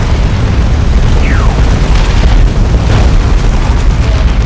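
An orbital strike lands on Tyranid Genestealers and a Hive Tyrant in a Warhammer 40,000 strategy game, a loud, dense booming rumble that fills the whole moment with no quiet gaps.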